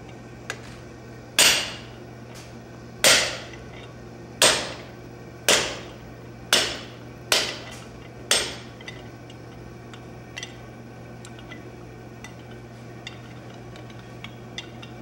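Blacksmith striking hot steel with butcher dies under a hand hammer at a smithing conference demonstration: seven loud, ringing metallic blows at a steady pace, each decaying briefly, followed by a few faint light taps.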